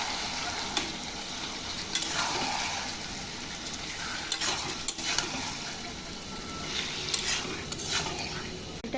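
Marinated meat and potatoes sautéing in a pan with a steady sizzle, spatula stirring and scraping against the pot throughout, close and moderately loud with no voices.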